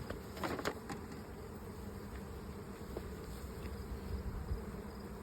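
Honeybees crowd over wooden hive frames, giving a soft, continuous buzzing hum with a few nearer individual wingbeats rising briefly above the low drone.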